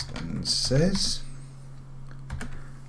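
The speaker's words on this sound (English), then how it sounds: "So that's what I'm going to type into my line of code here." Computer keyboard typing while entering a line of game code for shooting bullets, with quick irregular key clicks close up, a brief voice sound mixed in early on, and a steady low hum underneath.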